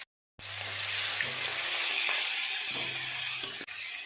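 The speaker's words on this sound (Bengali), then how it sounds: "উল্টে পাল্টে খুব ভালো করে মাছের মাথাটা ভেজে নেব।" A large fish head from a fish of about 1.3 kg frying in hot oil in a pan: a steady, loud sizzle that starts abruptly after a moment of silence and keeps going, with a few faint stirring knocks.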